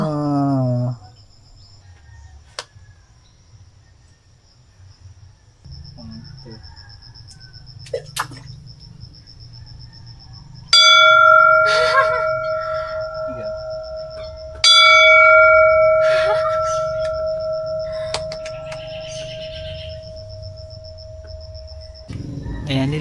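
A bell at a church wishing spot rings out in several sharp, resonant strikes with long decaying tones, two strong clear rings standing out amid chirping insects and quiet ambient background.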